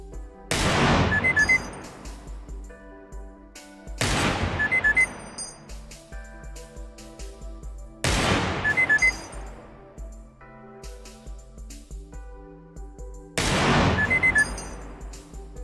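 Four single gunshots crack out one by one in the video game Receiver 2, each loud and sharp with a ringing tail, spaced about four seconds apart against a quiet background hum.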